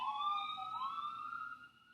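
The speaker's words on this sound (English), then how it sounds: "Wish I were free of sirens in the background." A wailing siren rises and falls in the distance, steady for a couple of seconds before fading slightly toward the end.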